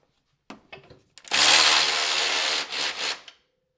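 A Durofix G12 12V extended cordless ratchet loosens a tightly torqued bolt: a few clicks and taps, then a loud close motor whir for about two seconds that dips once before stopping.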